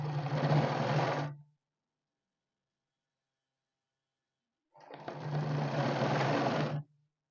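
A sewing machine stitches cloth strips in two bursts, a close, even whirring hum of about a second and a half, then a pause, then another run of about two seconds.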